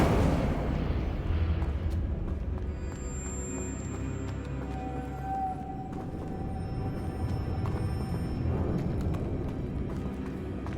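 Incendio fire spell in Hogwarts Legacy, a sustained roaring whoosh of flame with crackling texture, loud at first and settling into a steady rumble over several seconds, alongside faint game ambience and tones, with no talking.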